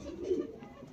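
A Punjabi Malwai pigeon with white eyes and a black beak gives a brief, soft, low coo, close by and alone.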